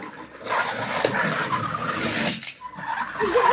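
Toy cars race along a cardboard road, with continuous broadband rolling and scraping like skidding tires, fairly close and loud, surging and dipping around the middle before picking up again.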